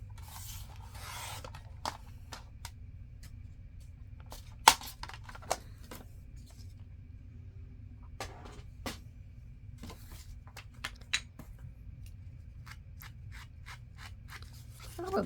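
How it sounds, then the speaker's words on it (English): Scissors trim a small piece off a paper craft, producing sparse, brief snips and light paper rubbing over a low steady hum. "Let me just cut a little tiny bit off of this"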